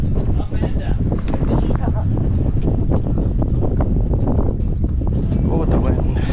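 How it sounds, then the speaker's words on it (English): Strong wind buffeting the microphone on an open stretch of the West Rim Trail in Zion National Park, Utah, a steady loud rumbling roar that continues without a break. "Oh, the wind."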